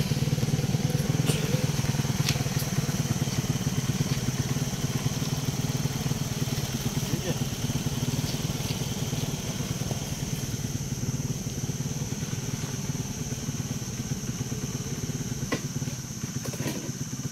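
A motorcycle tricycle engine idles steadily nearby, a low continuous rumble with faint crackle, running the whole time without talk.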